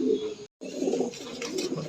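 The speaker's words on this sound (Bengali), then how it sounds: "এটা হচ্ছে ব্লু ম্যাকপাই পটা" A blue magpie pouter pigeon coos in low, throaty rolling bursts close by, with a brief pause between phrases, in a fancy pigeon loft.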